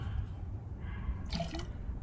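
Half an ounce of maple syrup goes into an outdoor bushcraft cocktail made with rye and lemon juice. A short, soft liquid pour with a few drips rises briefly over a quiet background.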